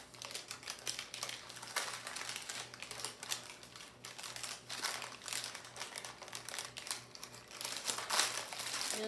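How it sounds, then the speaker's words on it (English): Parchment paper crinkling steadily as a pumpkin roll cake is rolled up in it, soft rustles and crackles close by with no talking. "And I'll start at one of my short ends and carefully roll with the parchment paper."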